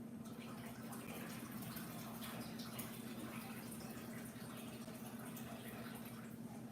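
Water running steadily from a tap while cranberries are rinsed, a soft, even splashing stream with a low hum beneath it, unbroken throughout.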